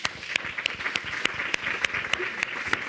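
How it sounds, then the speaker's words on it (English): A conference audience at a general assembly gives its panel speakers a round of applause. The clapping is steady and moderately distant, with sharp individual claps standing out against the crowd. "I have a round of applause for them"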